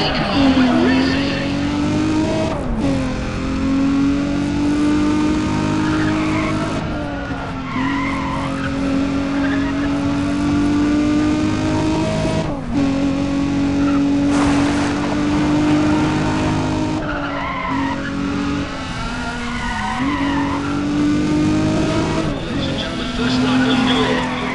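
Race cars in the Need for Speed ProStreet video game on the Autobahnring II circuit roar loudly and continuously, with engine pitch rising and falling through gear changes and repeated tire squeals and skids.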